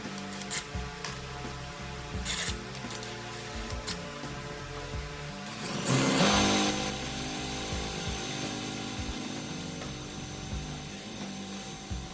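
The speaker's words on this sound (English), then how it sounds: "I'm going to do some drilling" A power drill whirs steadily into a metal roof rack, getting louder and harsher partway through, with no talking.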